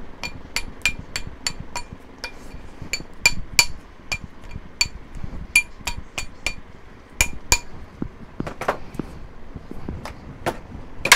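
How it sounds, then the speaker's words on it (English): A hammer taps a ring made from a spoon down onto a steel mandrel, giving a long series of sharp, bright metallic clinks at a steady rhythm, with some quicker flurries of taps near the end. "I'm gonna put it here on my mandrel and I'm gonna tap it down."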